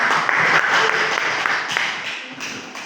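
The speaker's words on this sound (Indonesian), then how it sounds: "Untuk kelompok 1 bisa kasih tepuk tangan dulu" A university class group applauds with steady, dense clapping that carries on for a few seconds and slowly tapers off.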